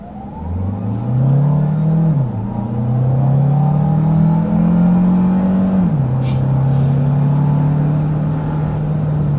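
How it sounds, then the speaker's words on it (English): A 2026 Kia Carnival SX Prestige hybrid accelerating hard in Sport mode, its engine rising steadily in pitch, dropping at two gear shifts and climbing again, loud and continuous from inside the cabin. "that was an acceleration with the Sport mode"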